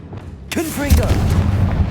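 A Confringo fire spell bursts in Hogwarts Legacy, a short spoken incantation followed by a deep, rumbling boom that rolls on loudly for about a second.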